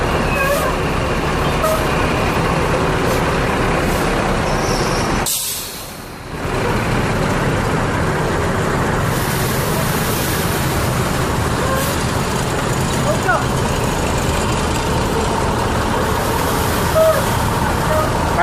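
An ANS intercity bus from Padang pulls into the Lebak Bulus Pondok Pinang terminal with a loud, continuous engine rumble and road noise that briefly drops off about a third of the way through, then resumes.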